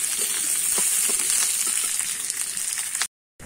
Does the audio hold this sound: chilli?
yes